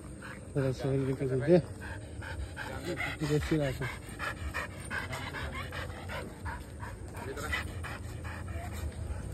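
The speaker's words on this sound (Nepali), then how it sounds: "कुकुरसित कुकुरको ग्याङ आउँदैछ" A gang of dogs panting and whimpering nearby, rapid breathy huffs with a few whiny tones early on, mixed with people talking outdoors.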